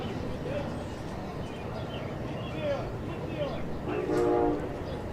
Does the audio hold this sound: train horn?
yes